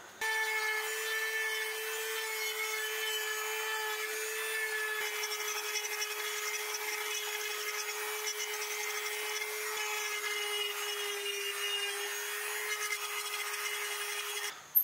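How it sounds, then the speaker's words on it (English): A Dremel rotary tool cuts wire slots into a wooden garfish lure body, giving a steady high whine with a constant pitch that runs unbroken for about fifteen seconds, close and fairly loud with no voices. "Now let's Dremel these wire slots in."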